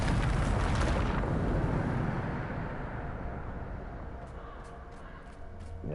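A Bombarda explosion spell from Hogwarts Legacy erupts in a loud, broad rumbling blast that fades over several seconds, followed by a few faint high ticks near the end.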